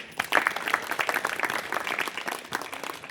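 An audience at a Shivratri celebration gathering claps loudly for a few seconds, a dense burst of applause that swells quickly and then tapers slightly.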